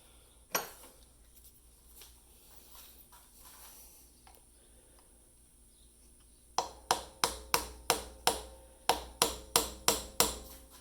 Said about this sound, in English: I'm going to use a 3mm punch and punch them out now.